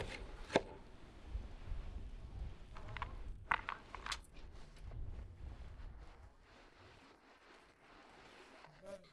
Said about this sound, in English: Let's chop some dill.